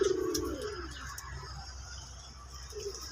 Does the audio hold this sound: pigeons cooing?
yes